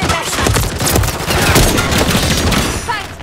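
A grenade blast in Call of Duty Modern Warfare 3, Highrise map multiplayer, erupts amid a dense, continuous roar of gunfire and battle noise that stays loud for the whole stretch.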